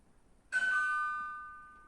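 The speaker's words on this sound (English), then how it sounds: "Now the bell just rang." A single electronic doorbell chime sounds once at a distance in a quiet room and rings out with a long, fading tone, with no other sounds around it.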